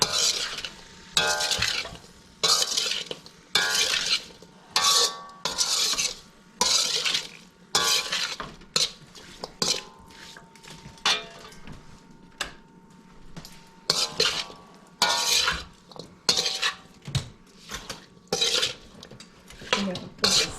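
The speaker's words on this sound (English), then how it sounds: "Making some weekend fried rice." Chicken fried rice with mixed vegetables tossed in a hot pan outdoors, rhythmic bursts of scraping and stirring with clinks of the utensil, each followed by a short pause, over a light sizzle.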